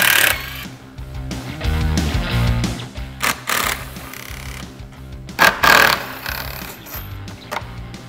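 Headlight bolts removed on a 2021 Ford Bronco, rapid buzzing ratchet or power-driver runs in short bursts with metallic clicks and clanks, loud and close, no talk.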